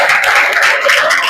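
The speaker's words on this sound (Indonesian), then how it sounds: "Tepuk tangan dulu." A class of seventh-grade students claps in a classroom, a brief, loud burst of close applause from many hands.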